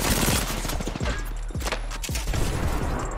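Video game gunfire with a few sharp shots and sweeping whooshes over a dense, busy background of battle noise, fairly loud throughout.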